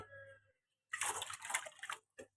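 Water spills over the rim of a container as it fills, making a soft, splashy burst of trickling and sloshing for about a second. It is faint and close, with a brief drip after it.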